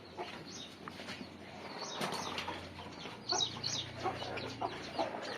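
Chickens clucking nearby, soft scattered clucks and peeps over a low background hum, with a brief rustle like wing flapping.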